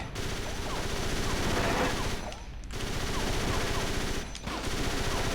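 Tank cannon fire in the Fighting Force 2 game: dense, continuous loud gunfire and rapid bursts fill the scene, with two short dips where the barrage briefly drops out.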